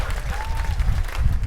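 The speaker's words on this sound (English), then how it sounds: "let's give them a round of applause for making today happen" Applause from an outdoor Pride festival crowd thanking the event volunteers, a steady wash of clapping throughout with crowd noise, fairly loud and close.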